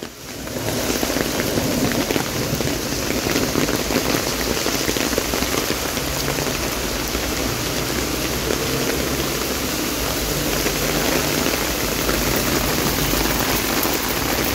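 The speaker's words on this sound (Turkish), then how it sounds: "Yağmur işte böyle." Heavy rain pours down on a street in Keçiören during a downpour, a dense, steady, close hiss of drops hitting surfaces that continues without a break.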